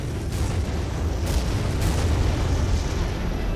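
Anti-aircraft guns firing in a Cold War real-time strategy battle: a dense, continuous rumble of blasts and booms with a few sharper cracks, loud and unbroken.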